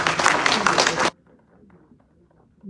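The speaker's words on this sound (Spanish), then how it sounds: "Un aplauso fuerte, señor." An audience at a church talk on the Reformation claps in a short, loud burst of about a second, then it cuts off abruptly to near quiet with faint murmuring.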